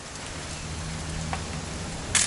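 Even, close rainfall in the video game What Remains of Edith Finch, a soft continuous patter over a low hum, with a brief sharper knock near the end.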